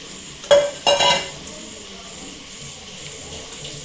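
Chicken masala being stirred and fried in a pan for a Tulu-style chicken dish, with two short bursts of scraping and clattering near the start, then a quiet, steady background hiss.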